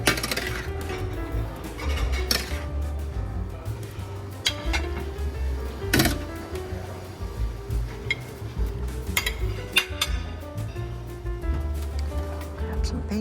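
A metal serving spoon stirring scrambled eggs in a buffet tray at a breakfast buffet, giving repeated clinks and scrapes against the pan amid restaurant clatter and nearby chatter.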